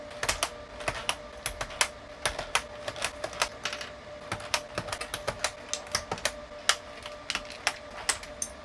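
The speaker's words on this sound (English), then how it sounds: "I need to remove the keys." Keys being pried off a 27-year-old IBM KB-9828 keyboard, giving a steady series of sharp plastic clicks and snaps, close and fairly loud, irregularly spaced over a quiet background.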